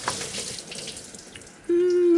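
Antifreeze coolant pours out of a 1968 Impala onto a shop floor, a steady splashing liquid stream that turns louder and fuller near the end with a rising gurgling tone.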